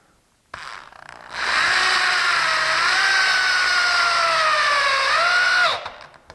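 A power drill drives a 2.5-inch screw into a pre-drilled 2x4, a single sustained whine that ramps up, holds, then drops as it stops, close and loud.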